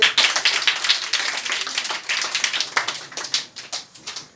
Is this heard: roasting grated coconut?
no